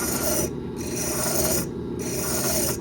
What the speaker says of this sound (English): how much I need to file off of the bushing